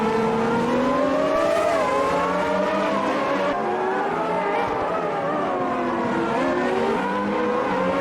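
Formula One cars in a racing video game, a Ford-powered Benetton and a McLaren Honda, scream along with high-pitched engines, their revs rising and dropping through gear changes, loud and continuous.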